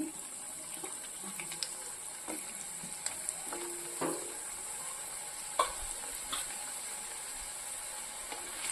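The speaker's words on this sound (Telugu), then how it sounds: "కాసిన కాసిన చొప్పున వేసుకొని వేయించుకోవాలి" Bitter gourd pieces fry in a pan over medium flame, a soft continuous sizzle with occasional stirring clinks and knocks, fairly quiet and steady throughout.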